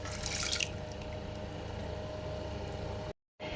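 About two cups of water pour into palabok broth in a steady, close splashing stream that runs for roughly three seconds before a brief cut.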